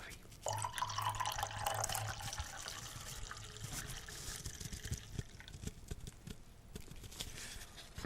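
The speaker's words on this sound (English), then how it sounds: "Let me pour some more coffee." Hot coffee poured from a pot into a cup at a breakfast table on a snowy New England morning, a close trickling fill whose pitch rises as the cup fills, followed by small drips and clinks.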